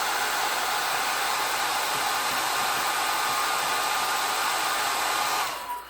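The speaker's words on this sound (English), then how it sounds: "if you come in with a heat gun or a hair dryer and apply some heat there" A hair dryer or heat gun blows continuously for several seconds while warming paper glue on a booklet page, a loud, steady whooshing hiss that cuts off abruptly at the end.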